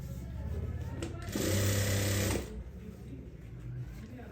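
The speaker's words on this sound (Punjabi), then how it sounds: "ਇਹਦੇ ਉੱਪਰ ਇਸ ਤਰ੍ਹਾਂ ਆਪਾਂ ਹੁਣ ਸਲਾਈ ਲਗਾ ਦਾਂਗੇ ਇਸ ਤਰ੍ਹਾਂ" Sewing machine stitching lace onto the hem of a salwar, a steady mechanical whir that swells loud for about a second before dropping back under faint background murmur.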